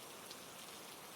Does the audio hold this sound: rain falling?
yes